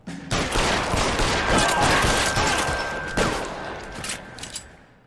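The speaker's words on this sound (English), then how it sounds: "he got one more shot off" Gunshots in the video game L.A. Noire, a loud, sustained barrage of rapid overlapping gunfire that fades toward the end, with a few separate heavier cracks standing out near the close.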